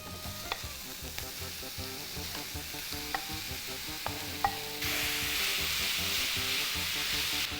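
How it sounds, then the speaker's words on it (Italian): Minced meat browning with onion in a pan gives a steady close sizzle, punctuated by sharp spoon taps against the pan and a louder, denser hiss in the later part. "Ora facciamo rosolare bene"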